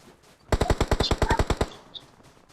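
A rapid burst of about a dozen evenly spaced gunshots in the mobile battle royale game PUBG Mobile, loud and close, lasting just over a second, followed by a faint chime.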